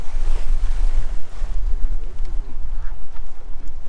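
A De Cesari 33 sailboat jibes and surfs down waves, a loud, rushing wash of water and wind roaring against the hull without letup.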